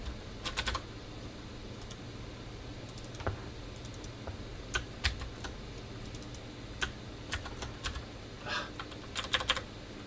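Clattering keystrokes on a computer keyboard during game programming, irregular bursts of sharp clicks and taps at close range over a low steady hum, with no talking.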